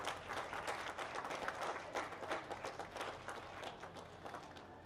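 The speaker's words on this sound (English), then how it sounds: "let's give all the kids a round of applause for what they've done today" Sustained applause from a crowd at a children's goat show, steady dense clapping throughout, fairly distant and even in level.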